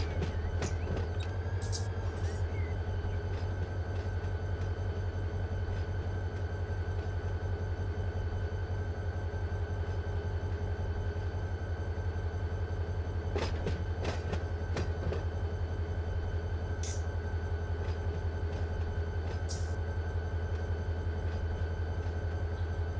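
A CSX locomotive in the Run8 train simulator game runs with a continuous deep rumble and steady drone, with occasional faint clicks and rattles, and no talk over it.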